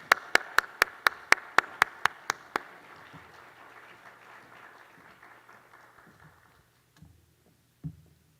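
A short burst of rhythmic clapping from a church congregation welcoming a pastor at a New Year dawn revival service, about a dozen sharp claps in steady tempo, then fading into quiet room noise with a couple of stray thumps.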